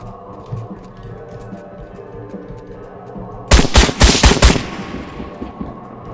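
Gunfire in Trans-Siberian Railway Simulator, a rapid burst of about six loud shots in quick succession, close and punchy, then quieter game ambience.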